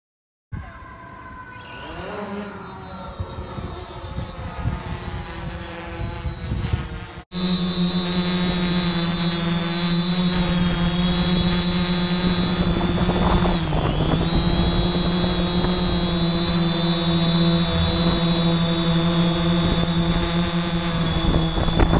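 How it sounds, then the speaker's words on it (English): A 3D Robotics IRIS quadcopter drone sits idling with a low, uneven whir, then its motors abruptly throttle up for takeoff into a loud, steady, high-pitched whine that holds close by. "now we're going to advance the throttle and watch the Iris take off"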